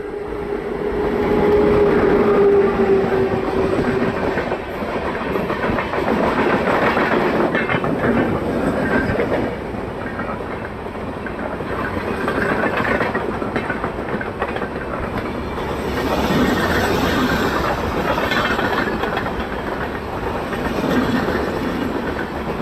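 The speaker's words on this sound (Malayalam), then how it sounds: "എറണാകുളം ജംഗ്ഷനിൽ നിന്നും ഡൽഹി അസ്രത് നിസാമുദ്ദീൻ വരെ പോകുന്ന Mangala Lakshadweep super fast express ആണ് ഇതാ വന്നുകൊണ്ട് നിൽക്കുന്നത്" The Mangala Lakshadweep Superfast Express, hauled by a Tughlakabad shed WAP-7 electric locomotive, rolls into Vellayil station in Kozhikode with a loud, continuous rumble and rhythmic clatter of wheels over rail joints.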